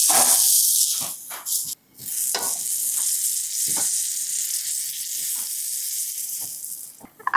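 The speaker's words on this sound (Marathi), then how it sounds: "पाव आतल्या बाजूने छान भाजून झाला की हा बाहेरच्या बाजूने पण एकसारखा करून घेऊया" Pav bread buttered and toasting on a hot pan gives a steady, close hiss of sizzling, broken by soft scraping and turning sounds and a brief pause, with no talk.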